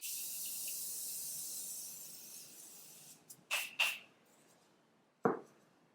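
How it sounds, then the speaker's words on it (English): Morphe Continuous Setting Mist sprayed onto a face: two quick, close, breathy hissing bursts in a row, followed by a short soft thud, after a faint, steady background hiss. "We're gonna spray our face before we set it with powder."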